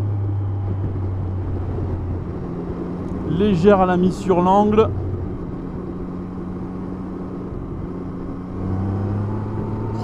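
A 2020 Yamaha MT-09 motorcycle with a quickshifter runs while riding, giving a steady low engine drone mixed with wind rush, as someone speaks briefly in French over it.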